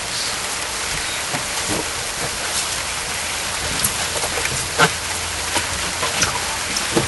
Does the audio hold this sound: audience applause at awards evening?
no